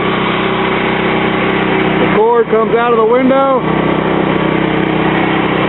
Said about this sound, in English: You can hear the generator outside running.